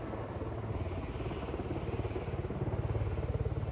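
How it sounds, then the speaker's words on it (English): A steady, rhythmic chopping thrum like a helicopter rotor pulses continuously, close and fairly loud throughout. "Sounds cool, eh? That chopper sound?"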